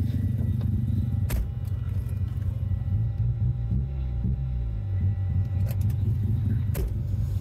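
A Mazda RX7 with a self-built naturally aspirated bridgeport 13B rotary engine drives along, its deep, steady engine rumble loud and continuous throughout, with a few brief sharp clicks and rattles from inside the car.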